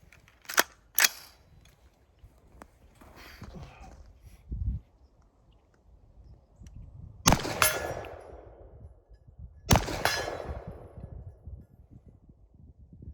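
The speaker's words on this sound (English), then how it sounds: "let's see if we can hit that steel up there on the hillside" Pistol shots ring out on a steel target up on an open hillside, several sharp cracks in separate bursts with metallic clangs and decaying echoes, loud and close, with faint talk between them.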